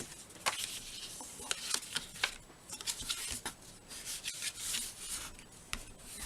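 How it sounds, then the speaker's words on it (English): Paper card is scored and folded for a gift box, giving soft, quiet rubbing and scraping strokes with a few sharper creasing ticks spread unevenly across several seconds. "So let's go ahead and do some scoring. Some folding down here."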